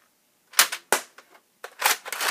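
A Nerf crossbow fires suction darts from about 20 feet away, giving several sharp snapping pops in short bursts separated by silence, close and clear.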